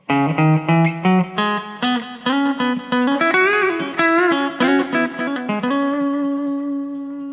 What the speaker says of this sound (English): Variation 2. That's like a tiled reverb. Bring the time right up.